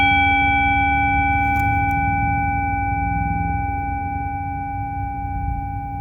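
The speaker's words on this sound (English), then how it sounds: "Earlier I said I'm playing with the Tibetan bowl" A Tibetan singing bowl rings with steady sustained tones, several pure overtones layered over a low hum, sounding close and continuous throughout.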